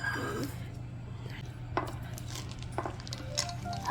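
Brownie batter made with black beans and chocolate chips being scraped into a pan: a spatula knocks and scrapes on the bowl and pan, under a steady low kitchen hum.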